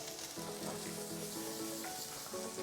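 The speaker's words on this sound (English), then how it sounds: "the next step is just to saute the onions with the garlic and the beef together" Onions sautéing in bacon fat in a pan, a continuous dense sizzle with faint crackles and light stirring, fairly quiet, no talking.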